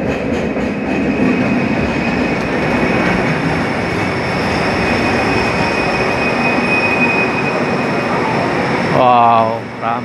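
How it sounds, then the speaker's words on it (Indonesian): A Kuala Lumpur LRT light rail train rumbles steadily as it pulls into Pasar Seni station with wheel noise and hiss, then slows; a voice speaks briefly near the end. "LRT-nya sudah sampai."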